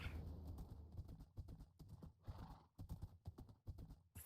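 Donkey hooves clip-clop in Minecraft, a steady run of rapid hoof steps with a brief whinny, fairly quiet and continuous.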